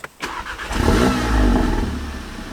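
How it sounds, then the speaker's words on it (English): A VW Golf R engine cranks and fires up, then revs loudly in a swelling surge before settling to a steady idle, close by with no talk. "I'm going to start the car just so we can have the full experience."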